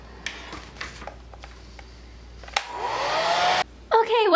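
Hair dryer blowing on wet finger paint for a Spider-Man mask design, a steady loud whoosh that starts after scattered small handling taps and cuts off briefly before resuming.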